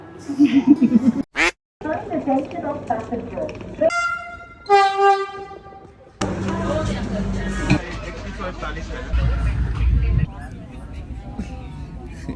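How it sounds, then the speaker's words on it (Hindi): A Vande Bharat high-speed passenger train rumbles along with changing rail noise, a drawn-out horn sounding midway, and people talking over the steady travel din. "ये पहली दफ़ा है जो मैं वंदे भारत से ट्रैवल कर रहा हूँ।"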